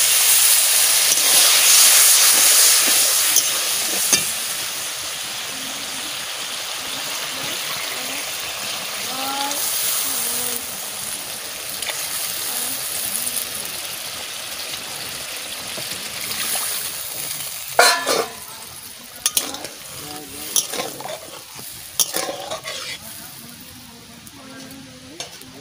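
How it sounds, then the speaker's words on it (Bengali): Spices frying for fish biryani hiss and sizzle loudly as water is added, then settle into a steady bubbling fry with intermittent scraping and stirring clatters near the end. "মশলা একটু হালকা করে একটু জল দেব, জল দিয়ে ভালো করে কষাই নেব। আমি জল দিয়ে দিচ্ছি।"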